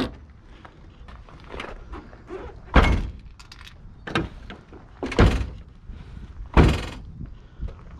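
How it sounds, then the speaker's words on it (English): A third-generation Camaro/Firebird car door is shut during a door removal job, with several heavy thunks and metallic bangs spread across the clip, loud and close. "Close the door so it holds the door on."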